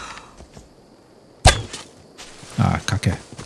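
A bow fires an arrow in Assassin's Creed Odyssey, a sharp sudden release and whoosh that stands out against quiet game ambience, followed by a burst of speech.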